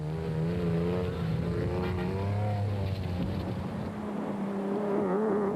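Rally race cars, a Nissan and a Mitsubishi Colt, roar along at high revs, engine notes rising and shifting as they accelerate, loud and continuous with no pauses.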